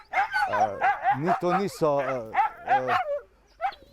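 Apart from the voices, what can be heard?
sled dogs barking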